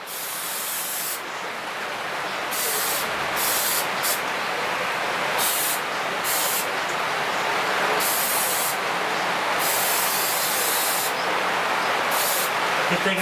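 Rocker guard undercoating sprays from an aerosol can onto a vehicle in long hissing bursts broken by short pauses, loud and close, with no talk.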